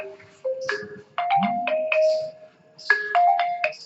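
A phone ringtone plays loud and close during a class, a melodic electronic chime of stepped tones repeating in two phrases with no talk over it.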